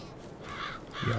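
Sheep in the farming game Farming Simulator 22 let out a single short, nasal bleat, close and moderately loud, with no talking.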